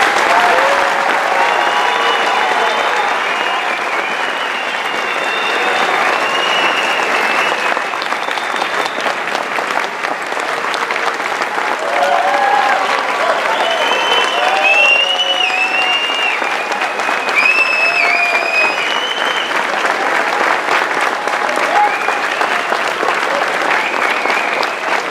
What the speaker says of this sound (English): And I think we should all give a big round of applause.